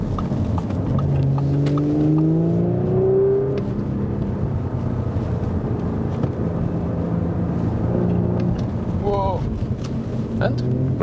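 Audi S4 V6 sedan driving hard through sharp turns, engine note rising and falling with tyres and road rumble, a steady close in-car drone with a voice talking over parts of it.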